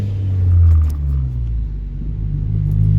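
A manual stick-shift car drives along with a steady low engine rumble and a slight rise in revs, heard from inside the cabin; no talking.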